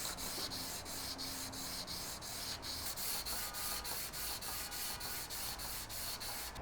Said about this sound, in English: going to sand this back and forth about 30 times on each side